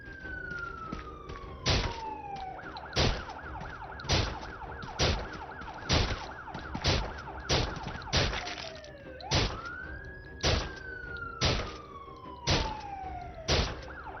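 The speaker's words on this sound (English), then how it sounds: "Hopefully they're going to head towards the siren." A wailing siren in the VR zombie video game SURV1V3 rises and falls repeatedly, accompanied by regular sharp metallic clangs pulsing every second or so, moderately loud.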